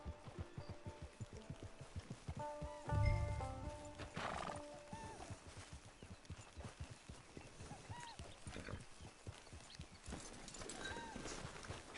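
Horse hooves clip-clop in a steady rhythm, with a loud whinny partway through and a few more snorts and neighs, close and clear, in the video game Red Dead Redemption 2.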